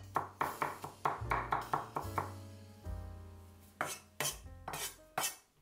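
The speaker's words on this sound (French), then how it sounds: "Je hache 6 gousses d'ail." A knife chops garlic cloves on a cutting board while paella is being prepared, with quick rhythmic knocks in bursts, a pause, then a few slower, sharper strikes over soft background music.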